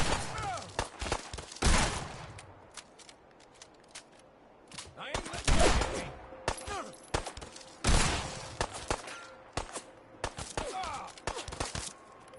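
Shotgun blasts in the Fallout 4 Far Harbor expansion, loud sharp reports fired in irregular bursts, some closely grouped, with thuds and a voice between shots.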